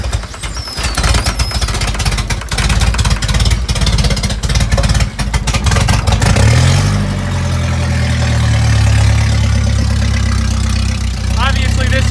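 A Nissan 240SX with a straight pipe exhaust cranks with a rapid starter clatter, then catches and settles into a loud, deep, throbbing idle close by.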